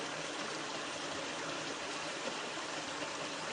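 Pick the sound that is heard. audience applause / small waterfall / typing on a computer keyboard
small waterfall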